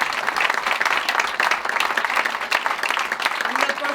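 Steady, dense applause from a live audience at a French variety show, many hands clapping together without pause for the full stretch, loud and close with no clear gaps.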